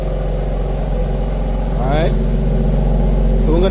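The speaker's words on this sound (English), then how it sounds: "Give it a little bit of rev for you." A BMW X4 M with a 3-liter twin-turbo straight-six idles with a steady low rumble and gives a couple of brief revs as someone talks nearby.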